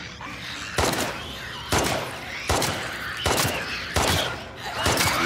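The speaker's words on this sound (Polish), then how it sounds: "Dwa strzały w głowę." Gunfire in The Last of Us Part II: five sharp, loud shots spaced roughly a second apart, each a bright broadband crack with a short ringing tail.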